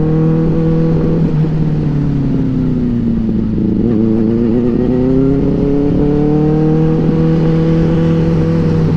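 A Kawasaki Z900 on its stock exhaust pulls hard during a night ride, a loud, close, steady engine drone that climbs in pitch, dips briefly and climbs again, with no talking.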